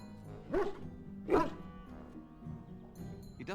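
A hound in the Dragon Age Origins video game gives two deep, gruff barks about a second apart, moderately loud over a low ambient game bed, followed by quieter rumbling.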